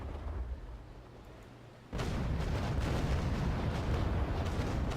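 Ship cannons firing double shot, long 18-pounders in a naval age-of-sail battle game, erupting after a quieter stretch into a loud, sustained rolling barrage of booms that fills the rest of the clip.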